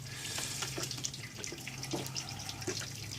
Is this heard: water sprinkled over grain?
yes